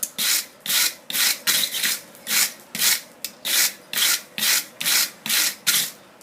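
A wire brush scrubs borax flux off hot, forge-welded iron, making about a dozen even, rasping strokes in a steady back-and-forth rhythm, close and fairly loud with no talking.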